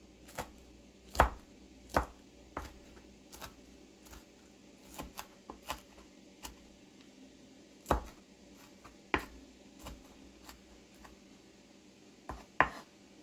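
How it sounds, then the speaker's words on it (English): Knife roughly chopping fresh spinach on a cutting board while preparing wonton noodle soup, giving irregular, fairly quiet sharp thunks spaced every second or so, alone without talk. "My spinach, I'm just going to rough cut it."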